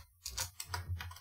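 Typing on a computer keyboard, a quick irregular run of clicking keystrokes, close and fairly quiet, with no talk.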